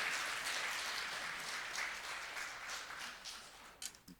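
Applause from a church congregation greets a guest pastor at the pulpit. The sustained clapping fades gradually and ends in a few scattered claps with some faint rustling.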